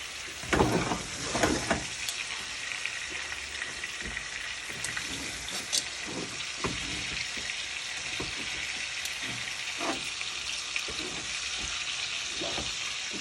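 Meat frying in oil gives a steady, close sizzling hiss with a few scattered stirring clatters early on and no speech.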